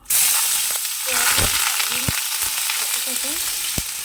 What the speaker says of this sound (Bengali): কড়াইয়ে বসিয়ে দিয়েছি তেল তো আলুটা আগে একটু ভাজিতে দিয়ে দেবো